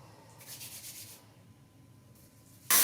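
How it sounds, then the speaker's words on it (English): Soft, rhythmic rubbing strokes of wet hand sanding on a forged steel seax blade, a brief swishing burst, then quiet, ending with a sudden loud scrape or splash. "And wet hand sanding, just as much fun."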